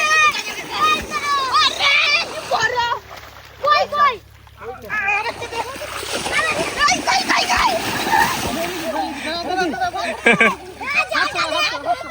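A fishing net being hauled through a village pond, with splashing and sloshing water at intervals beneath loud, continuous talking and calling voices nearby.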